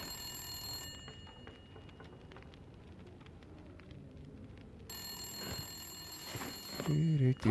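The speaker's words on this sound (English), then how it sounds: "All right, how do I answer the phone?" A telephone rings in The Long Dark video game, a bright metallic bell trill heard briefly at the start and again in the second half, with a voice talking over it and wind-like game ambience beneath.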